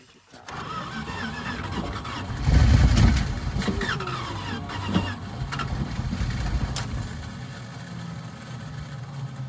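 A 1983 Dodge D150 Prospector that sat parked for 25 years cranks and catches, swells into a loud rough surge, then settles into a loping, uneven idle that carries on close by.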